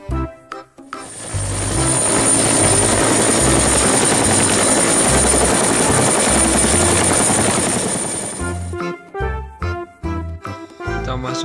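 A toy helicopter whirs with a buzzing rotor and a thin high whine, framed by short electronic tune notes at the start and end.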